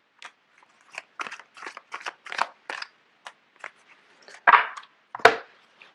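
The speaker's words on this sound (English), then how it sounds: "I'm going to put these in and shuffle it again because too many came out." A deck of tarot cards is shuffled by hand, giving a string of quick, close papery riffles and snaps with brief gaps between them, two louder bursts near the end.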